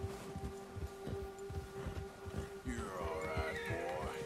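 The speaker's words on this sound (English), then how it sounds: "Your horse gets agitated from a large animal." A horse in Red Dead Redemption 2 neighs and whinnies in agitation, a loud drawn-out call rising midway over hoofbeats and game background sound.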